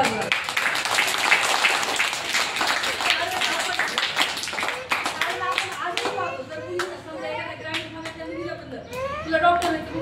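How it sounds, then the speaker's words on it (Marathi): Loud clapping from a school audience fills the room, dense and steady at first, then thinning into scattered claps while children chatter and a voice talks over the top. "एकदा जोरात टाळ्या वाजवा"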